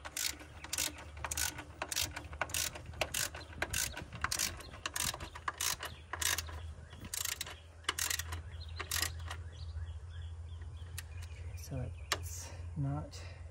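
A quarter-inch ratchet clicks in quick, regular bursts while tightening valve cover bolts on a 2007 Toyota 4Runner V6, close and crisp, with pauses between strokes and a person talking over parts of it.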